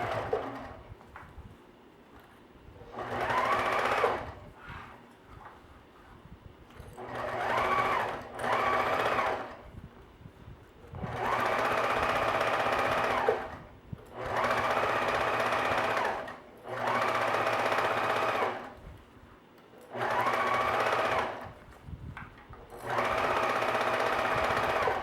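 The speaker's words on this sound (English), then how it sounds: "And then I'm going to go ahead and sew down the other side again." A sewing machine stitches a boxed cushion cover in repeated runs of steady, close whirring, several seconds each, separated by short quiet pauses, with no talking.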